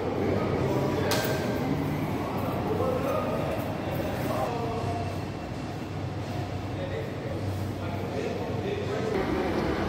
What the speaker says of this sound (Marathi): हे अंडरग्राऊंड मेट्रो स्टेशन मी दाखवतो आहे.